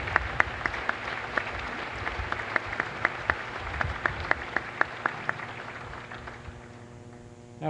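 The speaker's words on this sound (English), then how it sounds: "Let's give our parents, our grandparents, all the friends and family to the class of 2021 a great round of applause." Audience applause for parents, grandparents, friends and family at a Naval Academy induction day ceremony, a steady crowd clapping with sharp individual claps standing out, fading toward the end.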